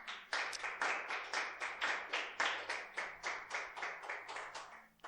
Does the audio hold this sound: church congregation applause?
yes